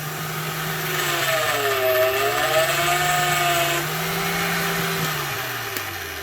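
A Vevor magnetic drill motor hums and whines close by, its pitch rising and wavering as power is added, then sagging again, loud and steady with no talk.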